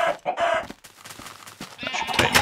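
Video game chickens cluck and squawk in a busy, jumbled stretch, moderately quiet, mixed with other clattering noises.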